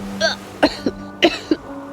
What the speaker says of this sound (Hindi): उसने खांसते हुए सारा पानी बाहर निकाल दिया